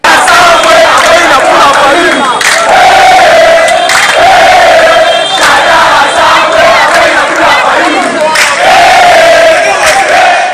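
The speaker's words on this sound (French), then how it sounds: "La police sera obligée de descendre pour disperser la foule en colère." An angry street crowd of protesters being dispersed by police, with tires burned, fills the scene as a loud, dense roar of shouting voices, rising and falling in waves throughout.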